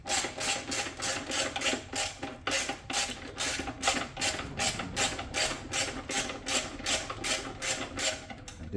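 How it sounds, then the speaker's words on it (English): A ratchet wrench worked steadily on a Harley Davidson Iron 883 motorcycle, a continuous rhythmic series of raspy clicking strokes repeating about twice per second, close and fairly loud with no talking. "Got this wrench on the other side."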